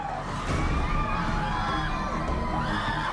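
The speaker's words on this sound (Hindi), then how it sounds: "देखते ही देखते दरबार में चीख पुकार और तेज हो गई" A crowd screams and shouts together in a religious court, a dense, loud, continuous wall of overlapping cries and wails lasting throughout.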